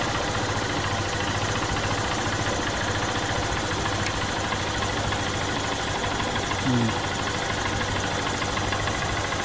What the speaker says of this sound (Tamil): இப்போ நமக்கு கரெக்டாக ஐடியல் வந்து ரொம்ப ரேசிங் இல்லாமல் ஒரு நார்மலாக தான் இருக்குது